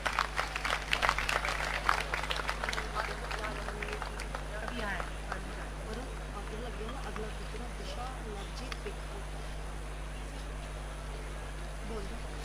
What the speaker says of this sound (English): May we have a big round of applause for the winners, please?